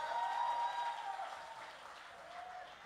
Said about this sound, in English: Let's clap for her anyway